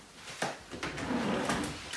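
A refrigerator door pulled open in a kitchen during a comedy scene, giving a few soft knocks and a rubbery unsealing thud against low room noise, with no one speaking.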